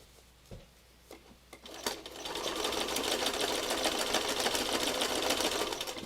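A sewing machine starts stitching after a few light clicks and taps, then runs in a steady, fast mechanical whir with rapid needle chatter, close and moderately loud, with no talk.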